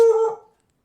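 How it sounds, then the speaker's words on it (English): A single loud, close bark from a dog indoors, brief and tonal, dying away quickly into silence. "she just barks really loud"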